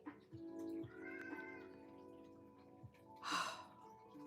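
A house cat making soft meows and breathy vocal sounds, quiet and close, with a brief louder sigh-like burst near the end.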